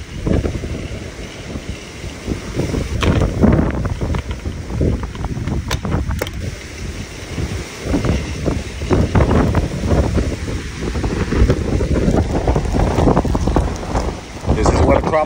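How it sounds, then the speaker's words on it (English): Strong tropical storm wind roars and gusts against the microphone, with rustling and buffeting throughout and a voice talking at moments. "Very windy."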